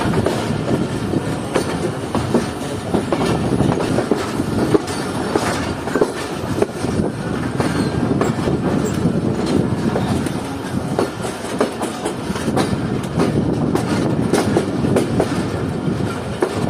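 Shah Latif Express moving along the line toward platform 3, a continuous loud rumble with wheel clatter and occasional squeal heard from on board.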